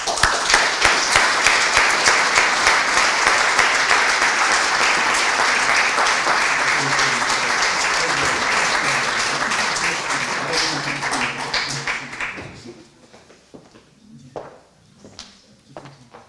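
Sustained applause from an audience at a formal academic public session as a prize is presented, dense clapping lasting about twelve seconds before fading to a few scattered claps and quiet room noise.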